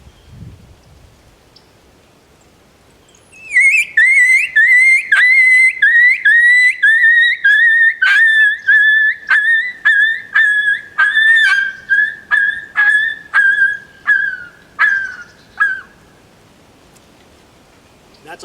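An MFK Pup Screamer call sounds a coyote pup distress sequence: a long run of loud, high, whining yelps blown in quick rhythmic bursts, trailing off after about twelve seconds.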